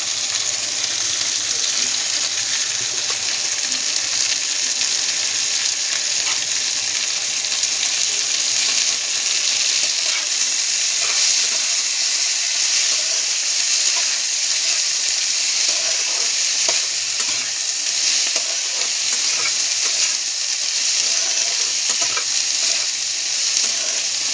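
Chowmein fries with ginger, garlic and onion in a hot pan, a loud continuous close sizzle with stirring scrapes and no talking.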